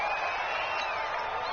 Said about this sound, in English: And this crowd urging on their defense. They're up and making noise.